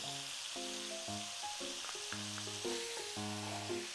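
Vegetables and pork frying for a spicy Japanese curry give a steady, fairly soft sizzle that runs the whole time beneath prominent melodic background music.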